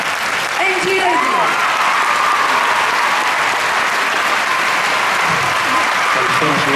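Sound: audience applause at a concert

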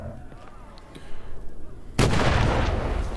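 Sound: stun grenade in video game Medal of Honor: Above & Beyond VR

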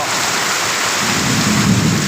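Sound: heavy rain and thunderstorm with lightning

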